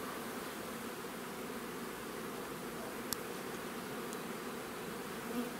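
Honeybees shaken loose from a hive frame buzz in a steady, dense drone that fills the whole stretch, close and even in level with no talk over it.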